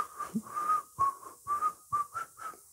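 A person whistles a short tune, a series of clear, steady notes in separate bursts with brief gaps, close and moderately loud, alone without talk.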